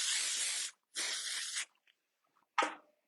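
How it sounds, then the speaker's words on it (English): Two long, close hissing bursts of texture spray hit hair, then a short third puff follows after a quiet pause. "So I'm going to be generous with the texture spray."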